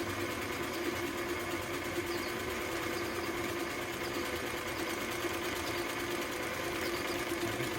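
A Singer 319w sewing machine runs steadily at a short ball-stitch length, producing a fast, even mechanical whir and needle chatter, close and alone throughout.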